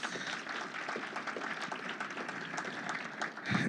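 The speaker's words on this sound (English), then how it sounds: "So give yourselves a round of applause." A crowd applauds at a Saskatchewan sport awards ceremony, continuous mid-level clapping from a large room audience, fairly even throughout with a brief louder swell near the end.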